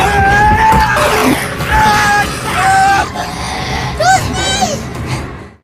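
A man screams and yells in a film scene aboard an airplane, loud, strained cries repeating over a busy background of other voices and commotion.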